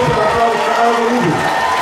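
Audience applause and cheering at a Schützenfest prize-giving ceremony, a loud, steady wall of crowd noise and clapping with shouts mixed in, continuous through the short moment.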